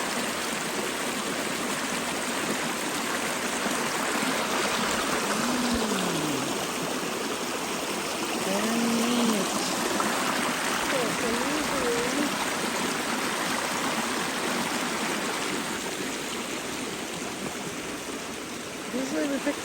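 A small creek burbles and trickles steadily nearby in an outdoor setting, with a continuous rushing wash of water and brief faint voices underneath.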